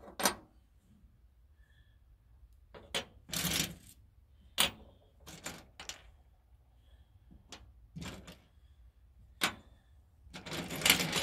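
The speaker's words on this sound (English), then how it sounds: "Just by sorting these screws out" Metal screws for a Costway glider rocking chair being sorted by hand, with scattered sharp clinks and rattles separated by quiet pauses and a louder jangle near the end.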